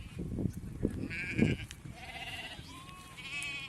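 Several sheep bleat one after another during flock vaccination, wavering cries at close to moderate distance, over low rustling and shuffling.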